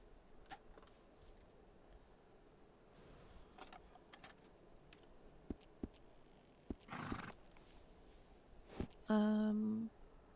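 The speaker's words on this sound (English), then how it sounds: "Oh no, those are horses." Horses in a video game: scattered soft hoof clops and small clinks over quiet ambience, ending with a louder neigh-like whinny near the end.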